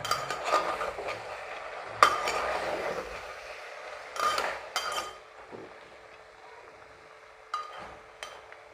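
A spoon scrapes and clinks against a pan while goat head masala is stirred. The strokes are faint and intermittent, a few seconds apart, with quiet stretches between them.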